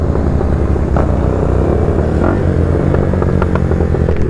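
Tuned motorcycles, a KTM Duke 390 and a GT 650, run side by side in a drag race. A loud, dense engine roar holds steady throughout with no talk.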